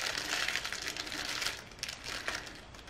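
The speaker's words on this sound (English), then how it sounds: "Let's take it out of the packaging." Crinkling, rustling plastic packaging being handled and pulled open, close up, with irregular crackles and no talking.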